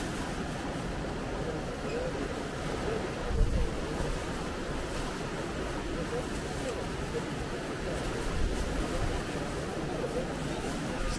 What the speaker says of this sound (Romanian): Sper să ne auzim că bate vântul foarte tare.